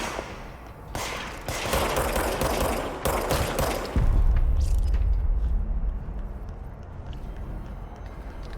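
Video game gunfire bursts in dense, loud automatic volleys, then gives way to a heavier rumbling roar and continued chaotic shooting in the background; no voices are heard.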